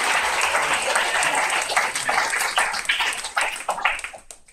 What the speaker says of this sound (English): One more time, give it up for Ron Dowell, Benin Lemus, and Pam Ward